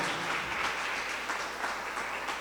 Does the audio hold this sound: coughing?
no